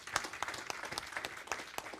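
A small group claps during a classroom lecture, giving steady, moderately quiet applause in a scattered rhythm with no voices over it.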